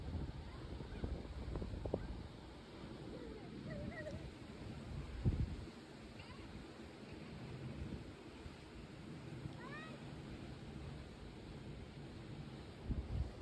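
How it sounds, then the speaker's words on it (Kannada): Birds calling at Gokak Falls, a few faint honking calls scattered over a constant outdoor wash of wind and rushing background noise, with a murmur of distant voices. "ಇವೆಲ್ಲಾ ಪಕ್ಷಿ ಬರ್ತಾವ್ರಿ"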